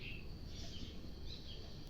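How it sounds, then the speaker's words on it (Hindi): Faint, distant parrot and bird calls and chirps ring out intermittently over a low background rumble in Himachal Pradesh, with no voices nearby. "चिड़िया की आवाजें सुनाई दे रही है"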